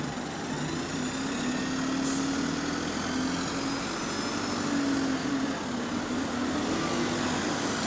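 Bus engine at Eltham running and revving through gear changes, a steady loud drone with a faint shifting tone, close by and without talk.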